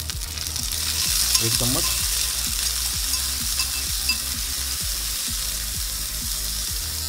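Garlic ginger paste sizzles loudly in a pan of browned onions as a spoon stirs and scrapes in a steady rhythm, with a brief spoken phrase over the frying.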